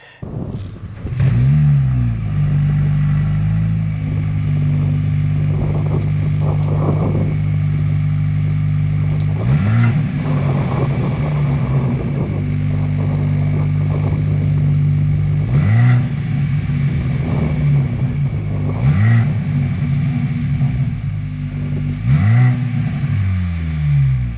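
A 2023 Mercedes-AMG SL43 engine idles with a deep exhaust rumble, punctuated by several sharp revs that rise and fall, loud and close.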